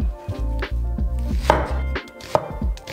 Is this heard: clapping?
no